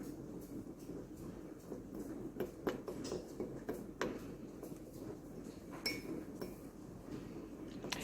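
A spoon stirs homemade baguette dough with a little water in a bowl, giving quiet, irregular clinks and taps of metal against the bowl, close and soft.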